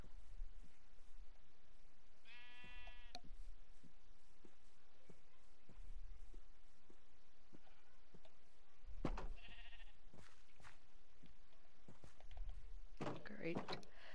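Sheep in Minecraft bleat in brief wavering calls, one early and others later, spaced out over a quiet background with scattered soft thumps.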